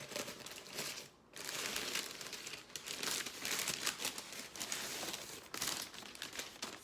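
Paper packaging around a roll of paper towels crinkles and tears as it is pulled open, a steady close-up rustle with a brief pause near the start and sharper rips later, no talking.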